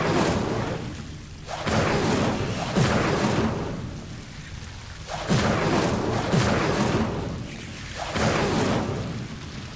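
Incendio fire spell cast in Hogwarts Legacy, heard as repeated loud whooshing, booming fire bursts that rise and fall in roughly three big swells over a rumbling background.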